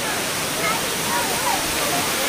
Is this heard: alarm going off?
no